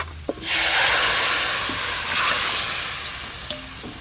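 Spices sizzle loudly in hot oil in a pan for a singhi fish curry, a steady broadband frying hiss that swells after a brief clink and runs continuously, with a second surge midway and faint utensil taps near the end.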